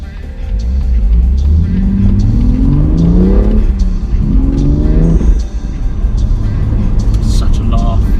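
A manual BMW M2 of almost 400 horsepower accelerates hard on a damp road, its engine note climbing in two rising sweeps with a gear change between them, loud and close. Someone talks over the engine.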